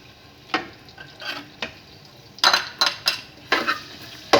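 Chopped onions frying in hot ghee in a pot for white chicken pulao, with a steady sizzle under repeated scraping and clinking of a spoon stirring, close and moderately loud.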